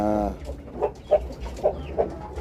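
Purebred Rhode Island White chickens cluck in short, separate bursts of about five soft calls, close and fairly clear, after a brief harmonic call at the start.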